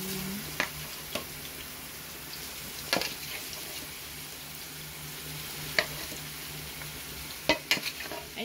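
Shrimp go into a hot frying pan, giving a steady low sizzle with sharp clacks of a utensil stirring and scraping the pan at irregular moments.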